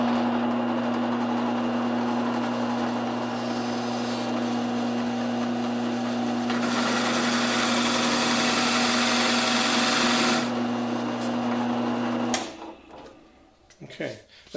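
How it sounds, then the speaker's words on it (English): A drill set to its slowest speed bores a shallow starting hole into wood, a steady droning whine that runs for about twelve seconds before cutting off into handling noises. "drill speed to about the slowest speed I can get it. And for this initial pass, I'm only going to go in about a quarter of an inch."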